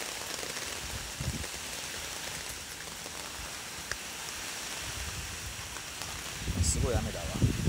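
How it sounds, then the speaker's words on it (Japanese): A steady, close wash of heavy rain falls in strong, cold wind, the hiss constant throughout, with low rumbles and a voice toward the end. "すごい雨だわ。"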